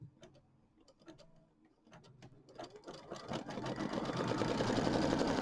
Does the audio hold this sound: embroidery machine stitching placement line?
yes